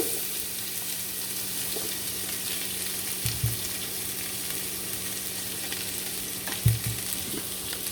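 Chopped onion sizzles steadily in hot oil in a pan while cooking chicken pasta, a constant close frying hiss with a couple of brief stirring knocks, no talk.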